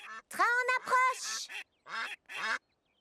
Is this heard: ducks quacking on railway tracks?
yes